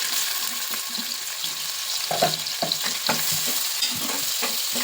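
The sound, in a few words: onions and green chillies frying in oil, stirred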